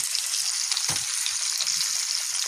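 Lamb chops frying in a pan, a bright, continuous hiss of sizzling oil with a few soft clicks and bumps from the pan, close and steady throughout.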